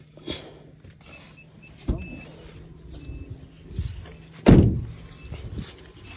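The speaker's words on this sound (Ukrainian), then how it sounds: "відкривайте, будь ласка, двері салону, багажне відділення" Car doors and a trunk being opened during a police vehicle search, with a few clunks and latch thuds, one loud close thump near the end, over low background rumble.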